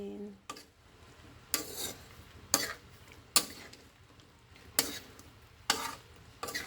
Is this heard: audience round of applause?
no